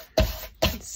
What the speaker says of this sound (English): so I might just give that little corner a crumple